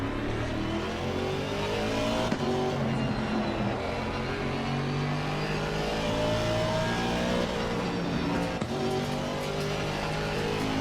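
A race car in the video game Assetto Corsa Competizione roars steadily at high revs for the whole stretch, with another car passing close by. The engine sound is loud, with rising and falling tones as it shifts, and no one speaks.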